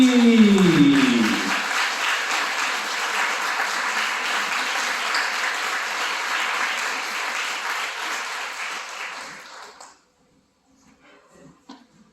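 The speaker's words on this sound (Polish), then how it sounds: "przywitajmy ogromnymi oklaskami zwycięzcę drugiej edycji Senioralnego Festiwalu Piosenki Artystycznej" Warm, steady applause from a festival audience welcoming the winner of a seniors' art-song festival, sustained for several seconds and then fading into near silence with a few stray claps.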